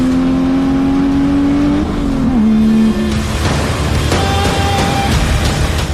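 A turbocharged 2JZ engine in a 1986 BMW 325i E30 revs hard and accelerates, turbo spooling as boost kicks in, pitch climbing then dropping at a gear change before surging again, loud and close.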